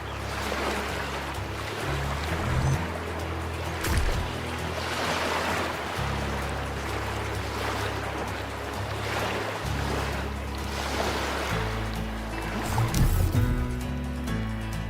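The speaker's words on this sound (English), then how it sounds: "That water was loud." Loud rushing water in the video game The Talos Principle 2 churns continuously with surging swells and low tonal game music underneath, no talk.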